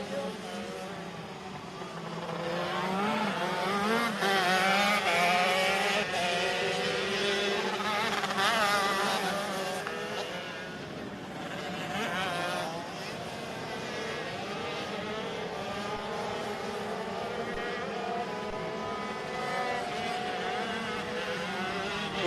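Rok Shifter karts with Vortex Rok engines race at Sonoma in a 2023 pro and master race, their buzzing high-revving engine whine rising and falling as they pass at mid distance, swelling early then easing to a steadier drone.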